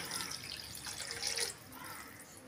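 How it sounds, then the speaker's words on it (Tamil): Water poured into a heavy pan holding one and a half cups of sugar, about three-quarters of a cup, to make sugar syrup for ghee Mysore pak; a brief, soft trickling splash that eases off halfway through. "3/4 கப் அளவுக்கு தண்ணி சேர்த்துக்கலாம்."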